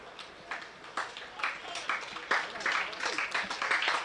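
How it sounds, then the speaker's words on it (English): Scattered applause from a county cricket crowd in an Essex versus Somerset championship match, clapping for a bowler as he walks to his fielding position, light and thin at first and building a little denser, heard at a distance. "he's getting another very well-deserved round of applause as he wanders down to take up his place"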